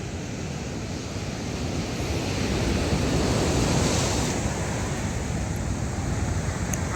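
Ocean waves break at Imperial Beach in San Diego, California, making a steady broadband surf roar that swells slightly midway through, with some wind noise and no voices.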